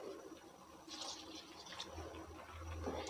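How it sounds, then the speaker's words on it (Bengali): Water poured into a pot of rice for egg and soya khichdi, a steady low splashing and trickling fill running throughout, close and moderately loud with no talk. "জল দিয়ে দিব"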